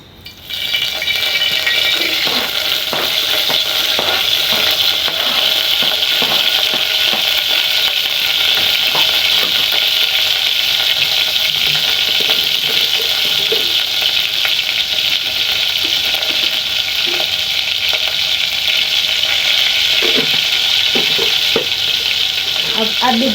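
Onions frying in a pan while potatoes and sausages are prepared, giving a steady, continuous sizzle with scattered crackles and a few clinks of stirring, close and loud throughout with no talking.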